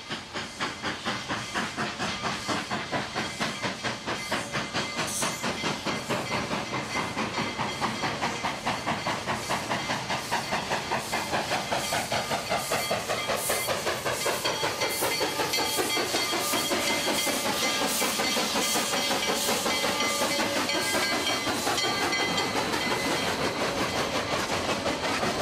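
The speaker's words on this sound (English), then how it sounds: "The climb up from Chama to Cumbres is one of the great spectacles in steam railroading." A steam locomotive on a 120-year-old rail line climbing the grade from Chama to Cumbres, with a loud, rapid, steady exhaust chuffing, steam hiss and rolling wheel clatter, sustained throughout with no talk.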